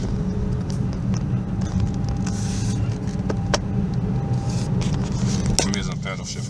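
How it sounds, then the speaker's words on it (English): An Infiniti M56 coasts and slows on its own in manual mode, a steady low engine and road rumble running throughout with faint clicks near the end. "put it in manual, but then I'll use my pedal shifters. This is plus. This is, I'm just gonna let it slow down by itself."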